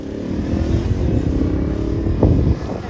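A Kawasaki Ninja motorcycle heads out onto a wet track at Mallory Park for testing, its engine a steady, moderately near rumble that rises briefly in a short rev near the end.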